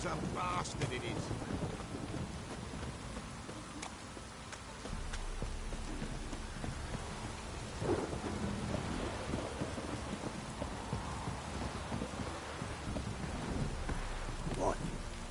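In The Witcher 3, a steady rainstorm hisses without pause while low thunder rumbles beneath it, holding an even, moderately loud level from start to finish.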